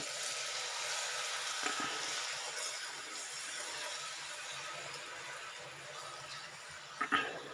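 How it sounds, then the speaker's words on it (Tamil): Jowar murukku dough fries in hot oil with a steady, dense, close sizzle and bubbling that holds throughout, plus a couple of brief louder spatters near the end. "பாருங்க நல்லா பொறிஞ்சு வருது"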